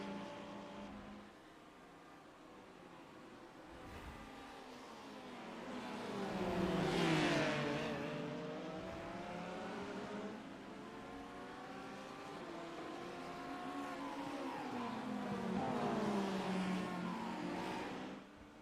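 Several race cars in a Daytona endurance racing video game, including a Porsche, roar past one after another with rising and falling engine pitch and gear-shift sweeps, loud and continuous without talk.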